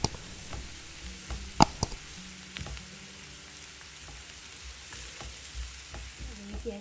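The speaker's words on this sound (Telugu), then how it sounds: "కొద్దిగా వేగాక 1 టీ స్పూన్ అల్లం వెల్లుల్లి పేస్ట్ వేసి బ్రౌన్ కలర్ వచ్చే వరకు వేయించుకోండి." Onion with ginger garlic paste fries in a pan for a restaurant-style chicken masala, a soft steady sizzle broken by sharp clinks and scrapes of a spoon stirring, quiet and close with no talk.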